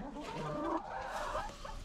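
Several chickens cluck close by in a steady, overlapping chatter inside a coop, with no talk.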